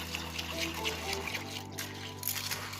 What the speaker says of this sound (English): We just added 1 bottle of water in. Let's give it a nice little stir.